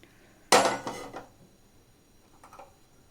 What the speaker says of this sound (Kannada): ಸೊ ಅದನ್ನು ಫ್ರೈ ಮಾಡಿರೋ ದ್ರಾಕ್ಷಿ ಗೋಡಂಬಿನ ಹಾಕ್ತಾ ಇದ್ದೀನಿ.